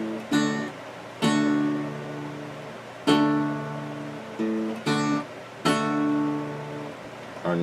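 Guitar chords strummed one at a time in a slow, steady pattern, each ringing briefly before the next, played alone with no voices.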